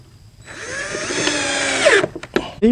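A power drill drives small deck screws into wood while building a deck under a shed roof, a rising whine that spins up, runs about a second and a half, then cuts off with a few brief bursts.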